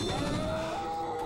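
A Charger special infected in Left 4 Dead 2 lets out a short, close, loud bellowing roar with a falling, moaning tone, heard alone without talking.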